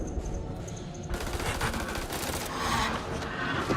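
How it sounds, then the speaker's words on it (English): Rapid gunfire from guns shooting at a vampire in the video game House of Ashes, a dense burst of overlapping shots that swells after the first second and keeps going steadily, loud and close. "Let's shoot him."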